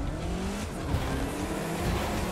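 Rallycross race cars in The Crew 2 driving a mixed dirt and tarmac circuit, engines droning steadily with rising revs and tire scrubbing throughout, loud and continuous with no talk.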